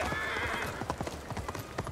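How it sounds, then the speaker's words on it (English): A summoned horse in Ghost of Tsushima whinnies and then gallops off, a rapid run of hoofbeats following a brief neigh, moderately loud with no speech. "Summon the horse."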